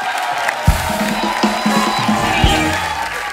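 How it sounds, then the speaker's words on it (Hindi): A studio audience on The Kapil Sharma Show cheers and whoops loudly in a big crowd roar, with a few sharp thumps and a voice heard over the din. "एक बार जोरदार तालियां हमारे शार्क्स के लिए।"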